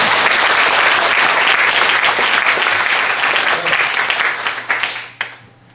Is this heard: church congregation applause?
yes